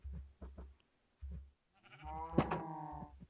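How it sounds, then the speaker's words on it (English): Sheep in the Drumcraft video game, several short low thumping game sounds followed by a nearby drawn-out bleat with a wavering tone, then more soft thuds, with no speech. "cows meet sheep. Sheep,"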